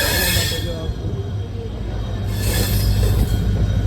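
A train rolls past close by on a trip to Ajmer, Rajasthan, with loud, high-pitched wheel squeal over a heavy rumbling drone.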